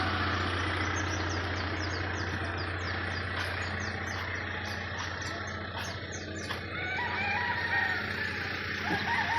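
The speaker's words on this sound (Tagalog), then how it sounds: "Ang sarap pakinggan yung mga manok, no?" Roosters crow repeatedly at a distance at a farm resort in Calatagan, Batangas, over a steady low engine idle and outdoor ambience, with no voices.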